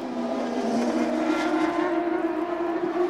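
Champ Car open-wheel race cars at the 2003 Toronto street circuit round, engines droning in a loud, sustained high-pitched whine as they run nearby, with no voices over the roar.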